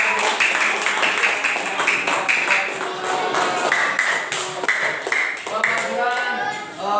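A group at an Indonesian teachers' coaching session for academic supervision gives a round of applause, steady sustained clapping with taps and pings mixed in, heard under continuing talk.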